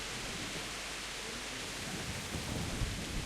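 Heavy rain pours in Kingdom Come: Deliverance, a dense, steady hiss without pause, with a low rumble building slightly toward the end and no voices.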